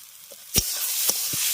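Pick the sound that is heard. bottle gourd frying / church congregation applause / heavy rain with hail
bottle gourd frying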